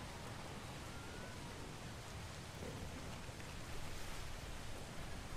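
Rain falling in the survival video game Atlas at sunset, a steady broadband hiss that stays even throughout and swells slightly near the end, with no voices.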